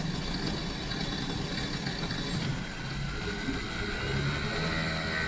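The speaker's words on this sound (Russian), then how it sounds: "Компрессор запустился, работает хорошо." An electric car's air conditioning compressor, running under test after power is fed to the unit, gives a steady dense drone with a low hum that holds evenly throughout.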